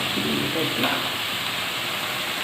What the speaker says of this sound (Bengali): ভাজতে থাকবে